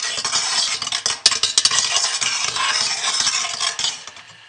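Thick soap batter being mixed, likely with a stick blender, giving a steady broadband whirring and scraping churn with a few sharper clicks against the container, close up and continuous with no talk.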